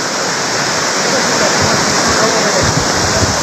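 Flood water rushes through a farm in a loud, dense, unbroken roar, heard close up with no pauses.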